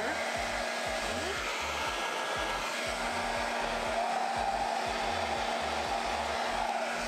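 Two hair dryers, a Hot Tools steam styler and a Quiet Air Pro dryer, run together in a loud, steady, continuous whoosh with a low motor hum, close by and without talk.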